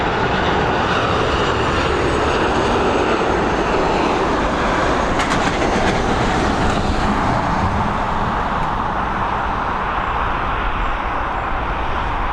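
A plane arriving at Dublin Airport from Leipzig gives a loud, steady broadband jet roar that fills the whole stretch, swelling slightly midway, with no talk over it.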